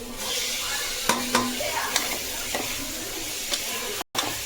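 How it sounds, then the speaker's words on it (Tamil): Kohlrabi pieces fry in hot oil for a mutton gravy, a steady close sizzle broken by several sharp scrapes and taps of a spoon stirring against the pan. "நாங்கள் எண்ணெயிலேயே கொஞ்சம் வதக்கிக்கலாம்"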